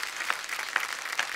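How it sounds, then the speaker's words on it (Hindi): Faint scattered clapping from a small studio audience on a comedy show, a few sharper claps standing out over a soft, steady patter. "एक बार जोरदार तालियां"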